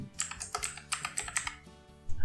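Rapid keystrokes on a computer keyboard while a phone number is entered into an online store setup form, a steady close patter of clicks with a heavier thump at the end.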